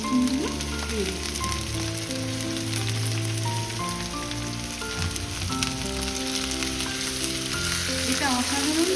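Boiled, drained mushrooms fry in a pan for mushroom posto: a loud, continuous sizzle like heavy rain, heard close up over steady background music, with no speech.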